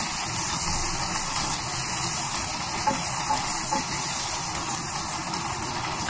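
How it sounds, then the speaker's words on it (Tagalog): Garlic and onion sauté in a pan, giving off a steady, unbroken sizzling hiss with a low background rumble and no talking. "So nagisa ako ng bawang. Tapos, nilagay ko na rin yung ating sibuyas."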